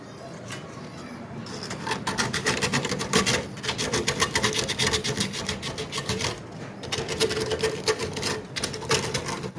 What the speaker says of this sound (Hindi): ये रेगमाल लगाऊंगा इससे